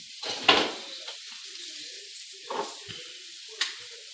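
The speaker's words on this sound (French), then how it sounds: "vous les faites véritablement revenir, ne serait-ce que doré, ou suer comme vous le voulez" Ingredients browning in a pan give off bursts of sizzling and hissing with quiet gaps between, moderately close with no one talking.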